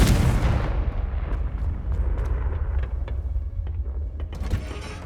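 A Confringo spell explosion in the Hogwarts Legacy video game bursts loudly with a deep boom, then leaves a rumbling, crackling tail that fades over several seconds.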